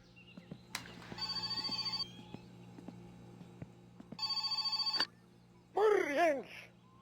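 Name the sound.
telephone ringing in video game My Summer Car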